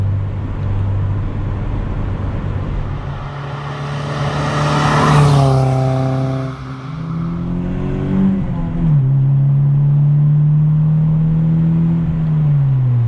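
A 1997 Acura Integra engine revs up through the gears with rising and falling harmonic tones, loud and close from inside the car, with a shift-like drop midway and steady acceleration after.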